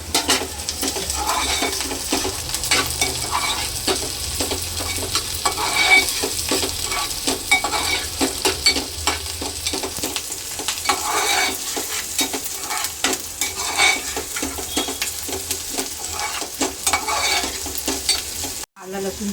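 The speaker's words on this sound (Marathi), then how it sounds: "आता त्याच्यामध्ये आपण टाकतोय कढीपत्ता आणि थोडा टोमॅटो." Curry leaves and tomato sizzle steadily in hot oil in a pan for an egg curry, with continuous frying crackle and repeated scraping stirs, and a brief cut near the end.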